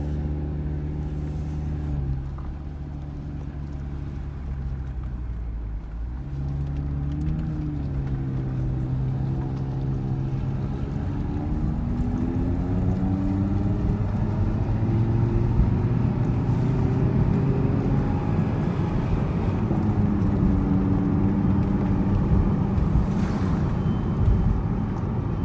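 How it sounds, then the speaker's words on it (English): A 2018 Audi TT RS five-cylinder engine drones steadily, its pitch rising and falling through revs, with a low rumbling exhaust note throughout and no talking. "let's give you a taste for what that 5-cylinder sounds like."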